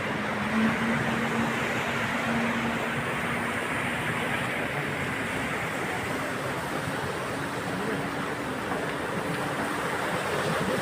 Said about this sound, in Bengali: পানি উঠতেছে, কত সুন্দর ঢেউ, কত সুন্দর ঢেউ